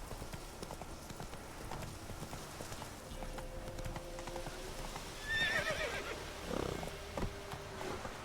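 A panicking horse in the video game The Witcher 3 neighs shrilly over a quick clatter of hooves, with game ambience and faint background sounds underneath.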